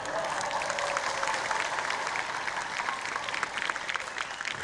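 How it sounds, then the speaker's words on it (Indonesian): An audience at a presidential address to Islamic boarding-school leaders breaks into steady, dense clapping that holds at an even level for the whole stretch, with no voices standing out. "Jangan tepuk tangan dulu."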